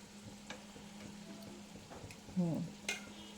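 Fish fries in a home kitchen pan with a soft, steady sizzle, broken by a few light scraping and stirring knocks. A faint voice briefly cuts in near the end.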